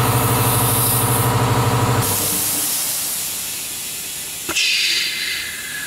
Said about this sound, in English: Love the air compressor.